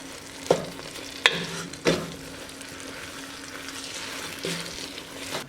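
Marshmallows being stirred in a pot for Rice Krispie treats, a few sharp scrapes and knocks of the spoon over a soft steady sizzle, close and fairly quiet with no talking.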